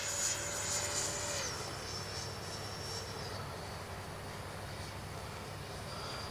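A Freewing 90mm T-45 radio-controlled jet with its landing gear down flies overhead, its ducted-fan whine steady and moderately distant, with a rising tonal sweep at the start.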